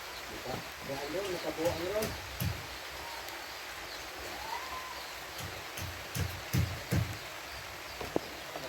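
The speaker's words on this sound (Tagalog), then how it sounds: "Meron na namang ulan" Light rain falls steadily on a building site while a fence is being put up, giving a soft, even patter with scattered drip taps, and people talk quietly under it.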